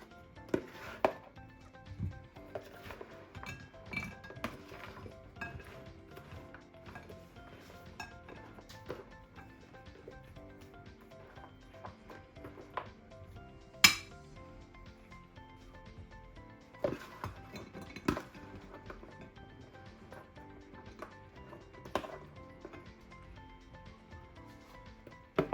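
Chak-chak is served onto two plates with scattered clinks, taps and scraping knocks of utensil against dish, sparse and irregular at close range in a quiet room.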